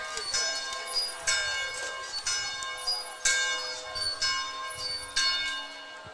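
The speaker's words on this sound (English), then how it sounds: "The bell's ringing." A bell rings repeatedly at a high school football game under the night lights, bright metallic strikes roughly once a second, each ringing out before the next, moderately loud over faint background crowd.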